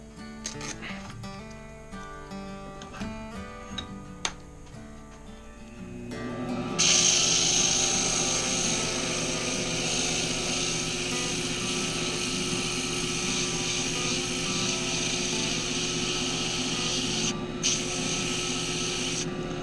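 Quiet clicks and hum, then a loud, steady high whine and rasping hiss as a slimline pen blank is sanded with 80-grit paper on a spinning lathe, continuing to the end.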